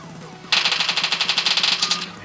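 Bots in a shooting video game fire a steady, rapid burst of automatic gunfire that starts abruptly and runs for nearly two seconds, loud and evenly rhythmic over a low background hum.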